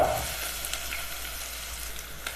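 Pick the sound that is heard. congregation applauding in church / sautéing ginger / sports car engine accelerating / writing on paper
sautéing ginger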